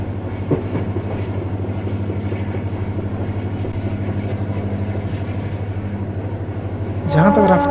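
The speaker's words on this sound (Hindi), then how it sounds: "और इसी के साथ हमारी ट्रेन यहाँ से प्रस्थान भी कर गई है" The Darbhanga–Saharsa passenger train rolls away from Chikna during heavy rain, a steady rumble with rhythmic wheel clatter and a rising screech near the end.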